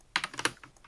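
Heavy-handed typing on a computer keyboard: a burst of sharp, loud key strikes, then a couple of softer trailing taps, close and clear.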